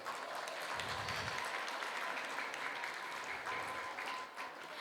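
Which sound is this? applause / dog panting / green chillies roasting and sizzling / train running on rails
applause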